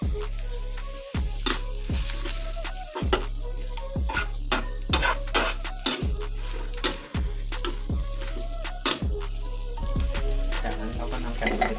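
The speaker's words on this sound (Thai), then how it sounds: "เราจะคั่วเรื่อยๆนะครับ" Chicken with ginger being dry-stir-fried in a pan: repeated rhythmic scrapes and knocks of a spatula roughly every second over a constant sizzle, close and loud, with no voices.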